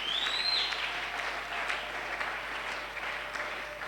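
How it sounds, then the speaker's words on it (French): A church congregation breaks into sustained applause and acclaim during a sermon, a dense, fairly distant wash of clapping that holds steady and fades slightly toward the end, with a faint whistle early on. "Il mérite nos acclamations."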